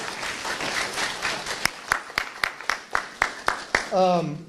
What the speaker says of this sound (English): let's bring him up to the mic with a loud ABS West hand clap for Mr. Parker